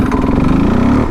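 A motorcycle engine revs hard and close in second gear, a steady loud buzzing drone as the front wheel lifts into a wheelie, with no talking.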